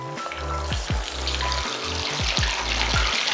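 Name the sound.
frying garlic chicken in hot oil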